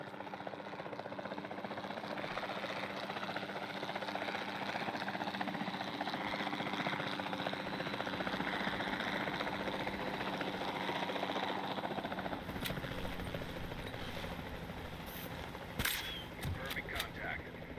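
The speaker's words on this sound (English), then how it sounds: "Then the sensible thing is to take a capture team helicopter." A capture team helicopter flies in a dinosaur video game, its rotor and engine droning steadily for most of the stretch before a few sharp clicks and beeps near the end.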